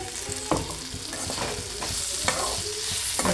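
Ground chili paste for a drumstick-leaf fry being stirred into a hot frying pan, with steady sizzling under a few sharp scrapes of the spoon against the pan, close and fairly loud, no talking.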